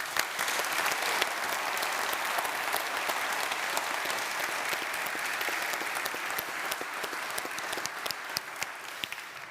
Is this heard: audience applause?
yes